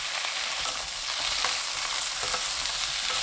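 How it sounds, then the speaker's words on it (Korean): Vegetables stir-frying in a pan with tomato sauce and gochujang over medium heat, giving a dense, steady sizzle close up, broken by occasional soft scrapes and taps of the spatula. "토마토 소스 3큰술, 고추장 2분의 1큰술 넣고 중불로 1분 볶습니다."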